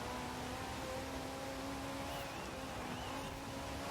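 Engine drone of a car in a racing video game streamed over xCloud on an Xbox One, a faint, steady hum with slight tonal shifts as it revs, continuous throughout with no talking.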